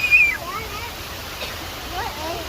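The Blue Heron Lake waterfall rushes in a continuous broadband roar outdoors among trees and greenery. It is steady and moderately loud, with faint splashy variation and no clear speech over it.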